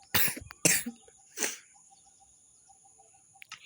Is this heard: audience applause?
no